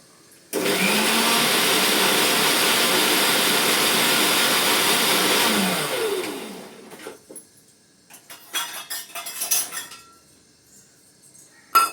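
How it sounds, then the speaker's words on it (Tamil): A mixer grinder grinds coriander chutney in one loud, steady whirring burst of about five seconds that then winds down, followed by quieter clinks and handling noises. "இப்போ வாங்க அரைச்சிட்டு வந்துடலாம்."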